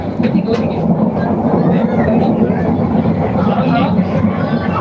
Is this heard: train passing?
yes